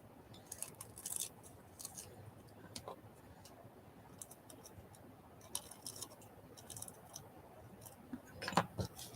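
Scissors snip through paper scraps in quick, faint clicks and crisp cuts, scattered in small clusters over a quiet room background.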